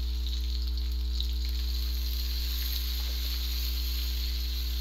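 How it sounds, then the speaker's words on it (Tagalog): Chayote sautéing in a pan with black pepper and fish sauce gives a steady, even sizzle with faint crackles, continuous and alone over a low constant hum. "Igigisa-gisa muna natin ito"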